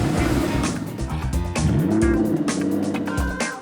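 An Aston Martin DB9 with a 6-litre V12 runs loud and close, a steady deep engine roar that swells and sustains throughout.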